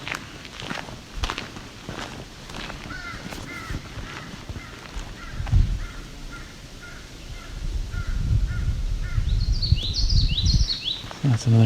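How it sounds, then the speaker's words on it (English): A crow near a lake caws in a short series of repeated calls at moderate distance, heard over crunching footsteps on an outdoor walk, with other birds calling faintly toward the end. "That's another crow."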